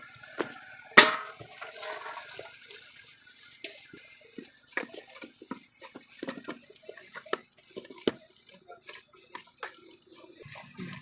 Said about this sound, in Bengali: এখন আমি এগুলিকে একটি তালনির সাহায্যে চেলে নেব